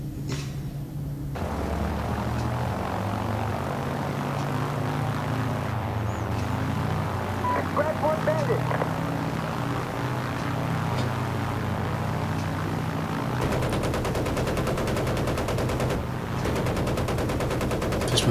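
Aircraft engines drone beneath bursts of machine gun fire in the video game Battlefield 1943, with steady rapid gunfire rattling over the plane noise throughout.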